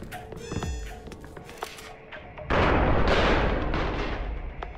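An explosion in the video game Liberated, a sudden loud blast that erupts midway and rumbles on as a broad roar, preceded by clanks and a sharp ringing tone.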